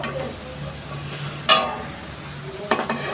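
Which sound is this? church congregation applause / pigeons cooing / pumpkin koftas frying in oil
pumpkin koftas frying in oil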